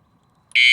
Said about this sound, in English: Once you hear that beep,